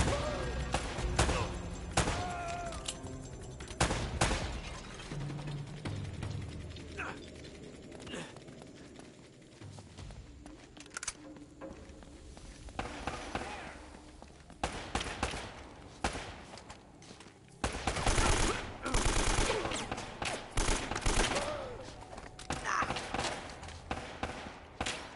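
Gunfire in the video game Uncharted: Drake's Fortune, sharp repeated shots scattered irregularly through the stretch, some clustered in bursts, over game noise and movement.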